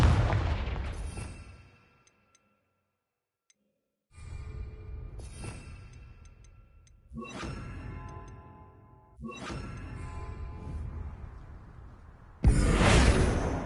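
Confringo spell blasts from the Hogwarts Legacy video game: a series of about five loud explosive bursts with whooshing tails, separated by brief quiet gaps, the last one sharpest and brightest.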